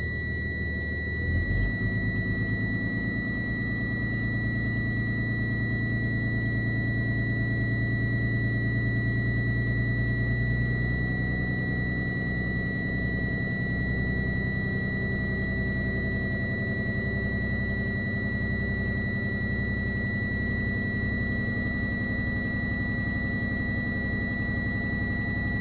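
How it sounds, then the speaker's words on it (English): Truck air brake low-air warning alarm buzzing in a steady, unbroken high tone for the whole stretch, layered over the low idling rumble of the engine while air pressure builds. "When the needle reaches above 60, my low air warning alarm must go off"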